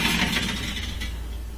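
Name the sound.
LG range oven racks being taken out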